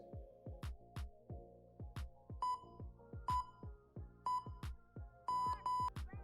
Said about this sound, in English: you'll have the timer that you'll see and hear on the screen